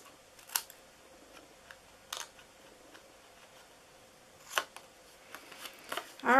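Scissors snip through paper pieces in a few sharp, separate cuts spaced across a quiet room, with soft handling rustles between them and a louder crisp snip at the end.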